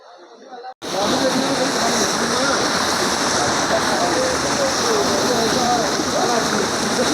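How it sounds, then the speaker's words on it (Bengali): Cold mountain waterfall on a North Sikkim road trip between Gangtok and Lachung, roaring steadily and close, a dense continuous rush of falling water that cuts in after a brief quieter moment at the start. "দেখো বন্ধুরা ওয়াটারফলস পেছনে দেখতে পাচ্ছ"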